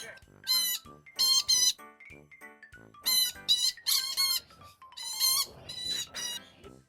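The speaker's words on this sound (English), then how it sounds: "Let's go listen to the lorikeet song." Lorikeets at a zoo aviary give shrill, harsh squawking calls in quick repeated bursts, close by and loud, with short gaps between the flurries.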